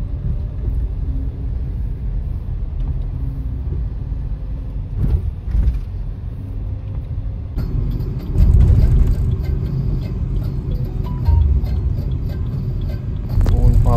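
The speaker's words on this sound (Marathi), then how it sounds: "चला गाडी आली आमच्या आता बसायची." A car pulls up on a rainy day at Jejuri in Maharashtra, its engine rumbling low and steady, then swelling louder and closer midway as it arrives, with scattered clunks and people talking nearby.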